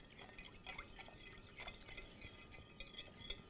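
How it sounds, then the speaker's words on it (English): A spiced liquid with star anise whisked in a bowl, a faint, close run of quick clinking and sloshing strokes in irregular bursts, with no voices. "Going to whisk that up again."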